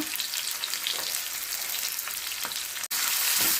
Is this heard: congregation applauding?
no